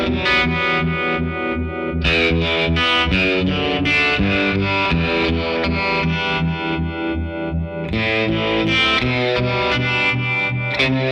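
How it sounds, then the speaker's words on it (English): JAM Pedals Harmonious Monk mk. 2 harmonic tremolo set to a reversed sawtooth waveform, shaping a sustained, distorted guitar into steady rhythmic pulses that swell and cut throughout, loud and continuous with no talking. "Let's go to the reversed sawtooth wave, a really unique kind of pulsy kind of sound."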